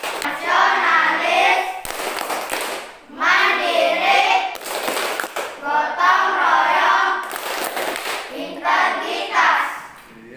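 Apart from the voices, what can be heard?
class doing the rhythmic Tepuk PPK clapping chant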